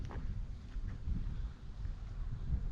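Wind buffets a campsite on a Baja coast and rumbles into the microphone as a steady low roar. The gusts swell and ease unevenly, and no other sounds stand out.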